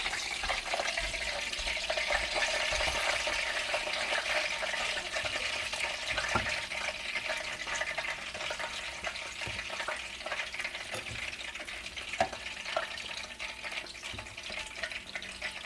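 Continuous hissing sizzle of food frying in a hot pan, steady throughout, with occasional light clicks and clatter from utensils nearby.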